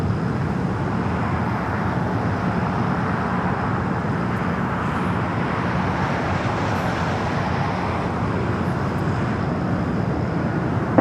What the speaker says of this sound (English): All right, let's go to the 757 now. Short final here for 25 left.